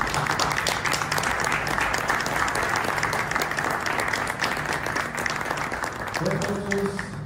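An audience applauds steadily at a special session of architects in Yazd, a dense, continuous wash of clapping from a full room, with a voice speaking over it near the end.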